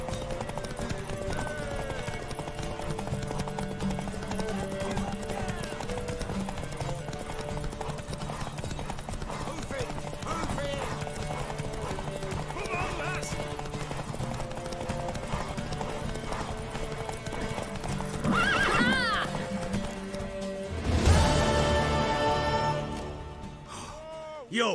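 In The Witcher 3: Wild Hunt, horse hooves clip-clop in a fast, steady galloping rhythm under background music, with a whinny and a burst of louder hoofbeats near the end.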